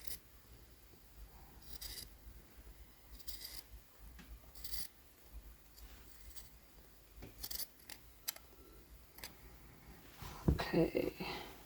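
Scissors snip through sweatshirt fabric during a repair, giving quiet, scattered cuts and rustling cloth close by, with a louder burst of handling noise near the end.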